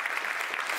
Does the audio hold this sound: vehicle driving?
no